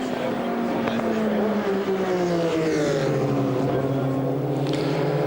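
Group C Lancia and Porsche race cars roar down the Mulsanne Straight at Le Mans, loud sustained engine notes with gliding pitch as they pass, under commentary.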